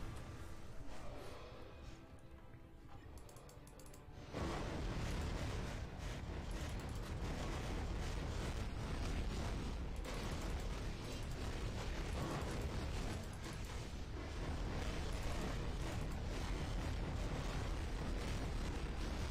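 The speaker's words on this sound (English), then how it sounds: "Ooh, fire blasts." Fire blast explosions during a Corvus Glaive world boss fight in Marvel Future Fight, with dense continuous booming and crackling game effects layered over background music.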